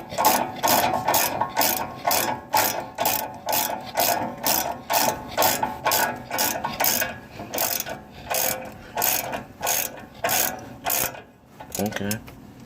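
A bolt is run up by ratchet to hold a brake caliper on a 2003 Lexus GX470, giving rapid rhythmic clicking strokes that continue for several seconds at close range, then slow and stop near the end.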